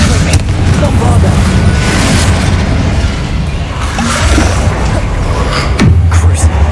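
Bombarda spell blast in the game Hogwarts Legacy, a loud dense booming rumble that fills the whole stretch, with a heavy low roar and crackling debris, a sharper burst near the end.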